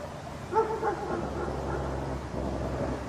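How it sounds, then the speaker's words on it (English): Several dogs outdoors in the woods give a few scattered barks and yips at moderate distance, fairly faint over a low background rumble, followed by quieter whimpering calls. "They bark persistently toward a turn."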